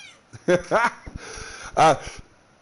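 A pet cat meows indoors beside a swivel chair, three drawn-out mews with a pause between, close and clear, while someone speaks softly in the background.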